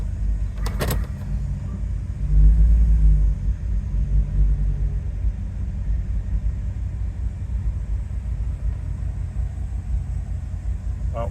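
A 1999 Chevrolet Suburban idles steadily after a tune-up in a garage, a low even engine rumble with a brief mechanical rattle near the start and a slight swell in loudness partway through.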